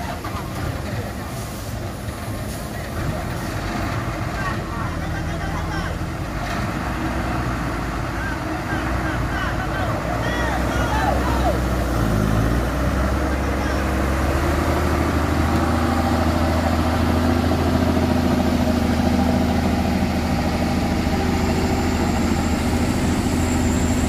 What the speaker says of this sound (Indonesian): truk engkel akan mulai